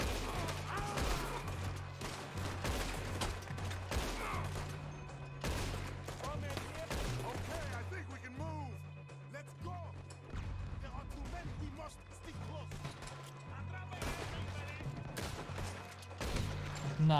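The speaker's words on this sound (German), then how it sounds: "Also ich glaube, die Schießereien werden hier jetzt nicht so schnell aufhören." A gunfight in Red Dead Redemption 2 with scattered gunshots and crashes over a steady music bed.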